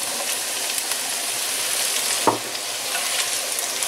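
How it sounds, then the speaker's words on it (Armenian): Bell peppers in three colours and meat sizzle steadily in a pan for Georgian ojakhuri, a loud continuous frying hiss with one brief clatter from stirring partway through. "5 ռոպե այսպես ենք տապակում։"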